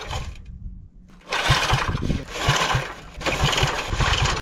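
A wood splitter's small engine on full choke is pull-started, giving a sudden burst of rough, sputtering, rasping engine noise. Faint rhythmic pulses run through it, and it fades briefly before surging again without settling into a steady idle.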